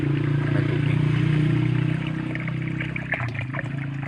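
Tap water runs steadily into a tub holding guppy fish, a continuous near splashing and gurgling that eases off slightly toward the end, with a few small clinks.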